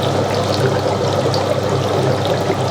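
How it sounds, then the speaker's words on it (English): Pumped water flowing through a bakki shower filtration system, a steady, close, unbroken rush and trickle of pouring water with a low hum underneath. "we can hear the water begin to flow through the filtration system"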